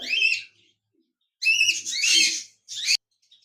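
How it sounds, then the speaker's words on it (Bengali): A caged pair of large cockatiels gives three shrill, whistled calls, one short, then a longer doubled call and a final brief one, loud and close with quiet gaps between. "এখানে দেখতে পাচ্ছেন একজোড়া বিগ সাইজের কোকাটেল পাখি রয়েছে"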